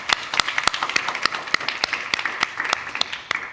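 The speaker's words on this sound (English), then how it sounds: "Round of applause, please." At the Web Summit 2022 tech conference, an audience claps with sharp, distinct claps in a fairly sparse, uneven rhythm that carries on for a few seconds.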